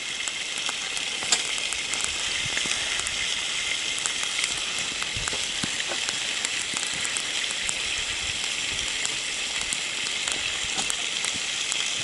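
Fish frying on a wood-burning backpacking stove fed with sticks, giving a steady close-up sizzle and crackle with small pops scattered throughout and no talking.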